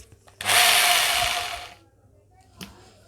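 A power drill bores a hole through a plastic water bottle cap in one steady whine of about a second and a half, close and loud, followed by a short knock.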